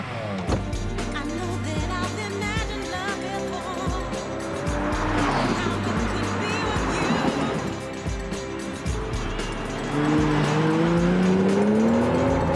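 A V12 engine car revs hard and accelerates up through the gears, loud and close, with tires squealing between shifts.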